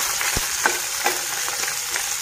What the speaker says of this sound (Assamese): নহৰু তেজপাত অকণমান ভাজিম।